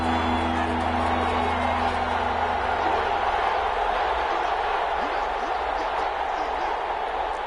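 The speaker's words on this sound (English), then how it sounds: "The crowd getting into it as we come up on a big 3rd down." Football stadium crowd building up and cheering ahead of a big third down, a broad continuous roar with whoops, heard under a commentator's voice.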